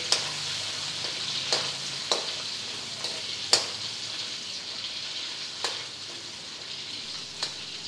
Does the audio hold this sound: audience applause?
no